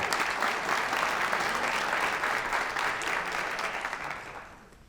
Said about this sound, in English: One of our National Merit commended students that we just want to recognize by applause